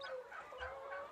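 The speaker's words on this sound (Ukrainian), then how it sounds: "У мене перші курчата кохінхіна." Newly hatched Cochin chicks peep softly, a few thin, high cheeps in quick succession, faint and close by.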